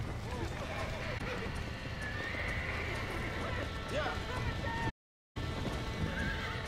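Horses galloping and whinnying in Red Dead Redemption 2, with hoofbeats and repeated neighs over game ambience and a voice speaking, broken briefly by a short dropout of silence.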